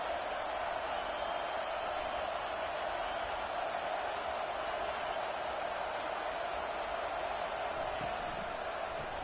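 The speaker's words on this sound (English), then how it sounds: "It is getting loud as this crowd tries to help its defense." Broad stadium crowd roar at a football game, a steady dense wash of voices and cheering that holds at the same level throughout without breaks.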